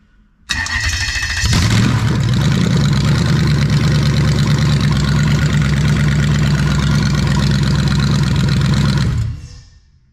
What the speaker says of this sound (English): So let's fire up now and you'll see that we get a check engine light when we're running.